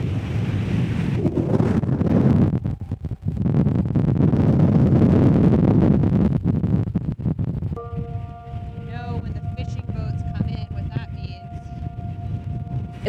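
Strong wind buffeting the microphone while sailing at sea, a loud continuous roar with surging gusts, later joined by steady tonal whines from rigging or boat equipment.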